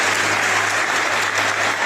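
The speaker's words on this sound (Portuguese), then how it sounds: "As palmas são da equipe médica do Hospital Municipal de Aparecida, ao ver o paciente de número 1000 liberado para voltar para casa." Medical staff at the Aparecida Municipal Hospital applaud in a dense, steady burst of clapping that is close and loud throughout, with no talk.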